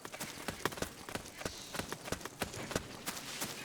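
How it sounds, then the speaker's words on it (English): Footsteps in the video game Metal Gear Solid 4: Guns of the Patriots, a quick, regular run of sharp clopping steps close by, with faint game ambience between them. "I hear footsteps."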